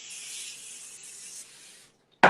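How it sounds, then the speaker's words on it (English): Canola cooking spray hisses steadily from a can onto a baking pan for about two seconds, then stops, followed by a brief sharp click. "I've got some canola spray, and what you would do is you would just spray the entire thing"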